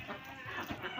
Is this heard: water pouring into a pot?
no